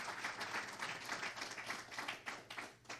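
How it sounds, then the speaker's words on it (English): An audience at a talk gives a round of applause, a dense, continuous patter of many hands clapping at moderate distance, fairly quiet and without voices. "You give Brother Eric a round of applause,"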